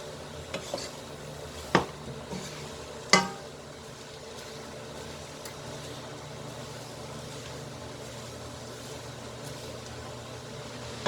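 A utensil scraping and stirring across the bottom of a pan of cooking onions, with a few sharp clinks early on over a steady low sizzle and background hum.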